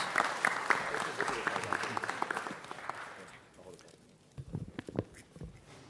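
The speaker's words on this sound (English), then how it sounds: "Let's give them a round of applause." Audience applause at an LA City Council Jewish Heritage Month presentation, a dense burst of many hands clapping for about three seconds before fading out as a voice begins talking.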